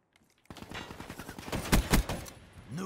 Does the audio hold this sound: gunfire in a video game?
yes